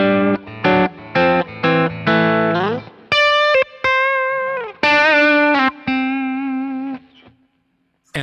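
Distorted electric guitar from a Kemper Profiler plays a series of chopped chords and single notes, the final tone ringing out with a roomy reverb tail.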